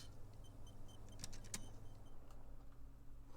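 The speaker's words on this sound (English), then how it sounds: "You hear traffic outside, back in the world again." Distant city traffic from the video game Disco Elysium drifts in from outside as a faint, steady low rumble, with a few soft clicks and ticks on top.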